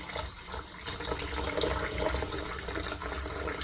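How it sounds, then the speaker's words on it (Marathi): Water is poured into a cooking pot for a dried-fish pulao, making a continuous, fairly quiet, tap-like stream of splashing with no one speaking. "थोडंसं मी पाणी टाकते"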